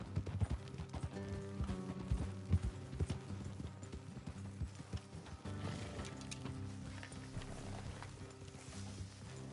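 Horses' hooves clip-clop along a road in the Red Dead Redemption 2 video game, a busy run of overlapping footfalls with creaking tack and a low rumble.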